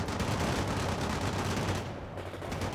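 Dense, continuous gunfire and explosions in the video game World in Conflict, loud and sustained throughout with no pauses, thinning slightly near the end.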